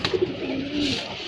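A pigeon coos during its giring courtship display. The calls are close and rolling, a short run of throaty coos lasting just over a second.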